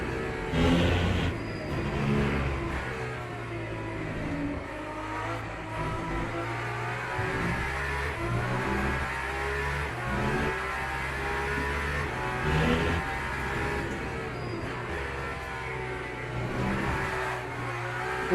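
Aston Martin Valkyrie hypercar in a racing video game, its engine droning and revving continuously with pack racing noise and occasional tire squeal, steady and close throughout.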